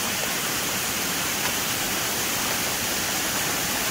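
Floodwater rushing over a broken-up concrete road in a village during heavy monsoon rain, a dense, constant roar of water that fills the whole clip without a break; no voices.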